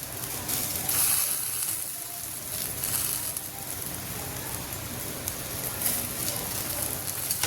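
Thinly sliced boiled potato fries with cut okra for a vrat-style sabzi, giving a steady crackling sizzle of hot oil that runs continuously and moderately close with no talking.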